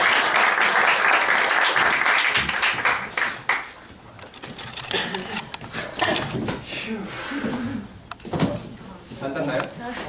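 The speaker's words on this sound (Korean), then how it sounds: "박수" An audience claps at a real estate sales consultant training lecture, a loud burst of applause for about three seconds that thins out as people chatter and talk nearby.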